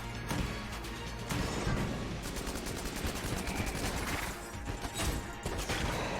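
Rapid, continuous gunfire from the Enter the Gungeon video game in beast mode, dense bursts of shots layered over busy game music and effects throughout.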